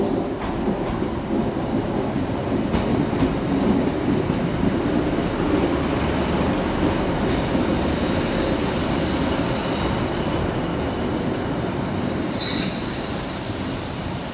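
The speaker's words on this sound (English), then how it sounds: "Next up, terminating service in from Mansfield Woodhouse," Class 156 train arriving at Nottingham station, a continuous loud rumble of wheels on rails with squealing brakes near the end, close by and without speech.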